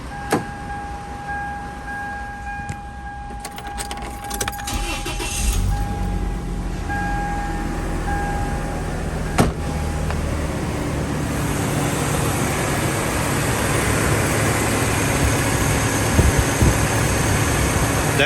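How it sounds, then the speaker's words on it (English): The engine of a 1995-2004 Toyota Tacoma pickup, just fitted with new belts, starts up and settles into a steady idle, a low continuous rumble that builds slightly over a long stretch with no one talking. "let's go start up the truck and see what it sounds like."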